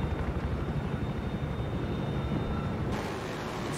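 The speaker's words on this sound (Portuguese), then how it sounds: "Esse helicóptero vai cair" A helicopter in Battlefield 3 flies with a steady rumbling rotor and engine drone, loud and continuous, shifting slightly in tone near the end.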